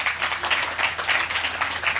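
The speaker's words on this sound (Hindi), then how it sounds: "ताली दो।" An audience at a Mahakali tantric sadhana camp in Bokaro claps on request, with short rhythmic bursts of clapping repeating steadily and fairly loudly, without talk.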